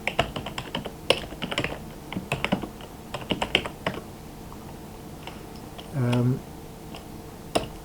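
Fingers typing a command on a computer keyboard under Linux, bursts of quick close clicks and taps in uneven runs, broken by a short pause and a brief low hum.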